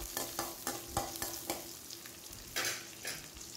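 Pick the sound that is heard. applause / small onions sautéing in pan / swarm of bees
small onions sautéing in pan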